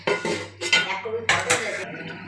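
A metal lid set over a pot of fish curry, with a few close clanks and scraping rattles of metal on metal in quick succession.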